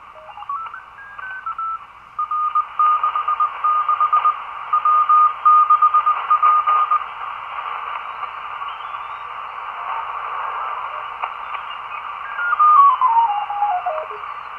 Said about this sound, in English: I've got it now in the CW part of the band